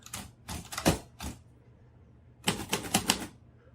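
Royal Quiet DeLuxe typewriter working close up: several sharp mechanical clacks and a ratcheting carriage movement, then a short pause and a fast burst of further clacks, with no talking.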